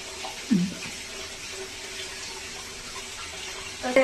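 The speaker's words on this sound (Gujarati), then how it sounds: "તો તેના કેળાને ધોઈ નાખવાના." Tap water splashes into a sink as bananas are washed, a steady close rush of running water with a couple of louder splashes, no voices.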